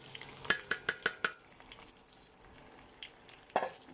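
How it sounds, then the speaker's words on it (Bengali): Rice frying in ghee with cinnamon sticks and bay leaves for biryani, with a soft sizzle under a quick series of metallic spoon clinks against the pot, then quieter stirring and one last clink near the end. "আমি চালগুলাকে ভালো করে ভেজে নেব"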